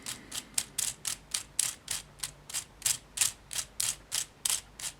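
A 3D printed plastic finger treads fidget toy spinning, giving a rapid, regular series of light clicking ratchet-like pulses, about three per second, close and fairly quiet with nothing else heard.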